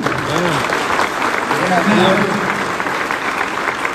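Audience applause at a live comedy show in Dallas, steady clapping from a sizeable crowd lasting several seconds while someone speaks briefly over it.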